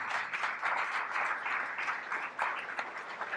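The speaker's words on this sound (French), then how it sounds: "Je vous demande encore une fois de l'applaudir." Moderate, steady clapping from an audience at the Prix Amaranthe 2021 award ceremony in Salle Soukar, heard at some distance as a continuous patter lasting the whole moment.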